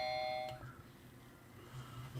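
A doorbell chimes once at the start, a short, faint tonal ring that fades into a quiet room with low background hum and no talking.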